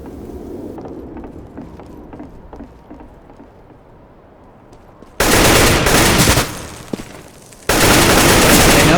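Rapid automatic gunfire in a Counter-Strike match erupts in two loud, sustained bursts after a stretch of quieter in-game mechanical clicks and footsteps.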